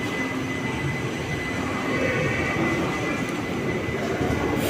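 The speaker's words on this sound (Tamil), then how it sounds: "ஃபர்ஸ்ட் பிளாட்ஃபார்மில் பரசுராம் எக்ஸ்பிரஸ் டிபார்ட் ஆகிட்டுருக்கு." The Parasuram Express pulling out from a station platform, a loud steady rumble of rolling wheels and carriages with faint squeals, heard close from the platform without talk.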